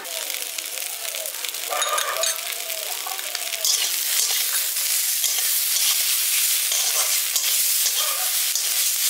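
Crushed green chillies hit ginger paste in a frying pan, giving a loud hiss that swells partway through, with a little stirring, for a village-style winter vegetable dish.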